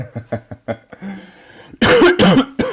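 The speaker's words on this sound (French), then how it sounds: "Oula, je tousse" A few breathy sounds are followed by loud, harsh coughs close by, in a couple of bursts.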